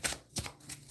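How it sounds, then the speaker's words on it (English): Playing cards being shuffled for a card reading, a quick run of papery riffling bursts up close, with no talk. "All right, Leslie, as I'm shuffling."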